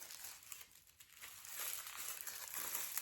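Paper crinkling and rustling close by as a wrapped gift is torn open, growing louder and busier toward the end, with no talking.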